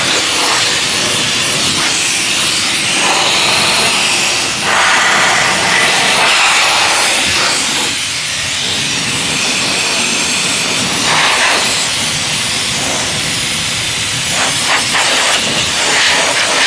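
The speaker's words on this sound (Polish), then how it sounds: "No i tak cały traktorek odmuchamy" Loud, continuous hiss of compressed air blasting in bursts over a C-330 tractor, with rising and falling intensity as the airflow shifts; no voices.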